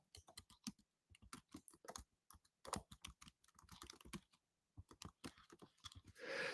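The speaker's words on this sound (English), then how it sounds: "I'm typing it now into the chat." Fast, uneven keystrokes on a computer keyboard clatter in bursts with short pauses, close and fairly quiet, typing a quiz question into a live chat.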